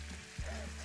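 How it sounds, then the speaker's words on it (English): Fresh Barataria shrimp sauté in a hot pan, giving a soft, steady sizzle with a low background hum and a brief thump partway through. "just sauteing this up"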